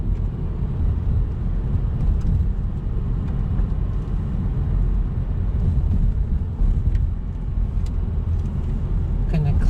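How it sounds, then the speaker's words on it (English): A manual transmission car being driven near stop signs, with a loud steady low engine and road rumble throughout as it pulls away and shifts from first into second gear. "gonna put it to first gear, clutch up, give a little bit of gas, second gear"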